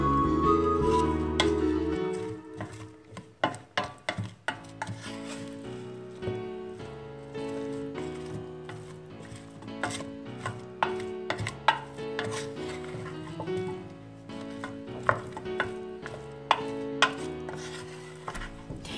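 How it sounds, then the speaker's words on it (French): Flour being stirred into melted butter in a pan for Japanese cream stew, soft scraping and tapping of a utensil against the pan with a faint sizzle, close and intermittent. "Et on ajoute la farine. On continue de mélanger."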